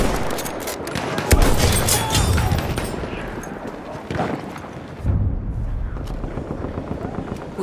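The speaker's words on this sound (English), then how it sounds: "Enemy machine gun!" Machine gun fire in the game Battlefield 1 rattles almost without a break amid dense battlefield noise, with heavier thumps and impacts layered through the constant din.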